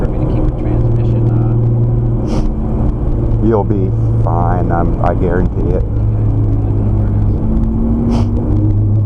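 Nissan GT-R engine droning steadily at low revs on a race track in the pits area, a constant rumbling hum beneath conversation between people inside the car.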